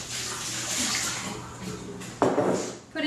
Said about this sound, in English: Pour out the hot water.